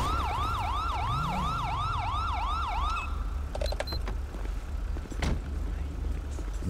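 A wailing ambulance siren from a police video game rises and falls in a steady, loud cycle for about three seconds and then cuts off, leaving engine rumble and some sharp clicks.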